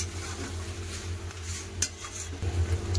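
Chicken and salt are stirred in a kadai pan, a metal spoon scraping and tapping against the pan over a low steady hum, with one sharper clink near the middle.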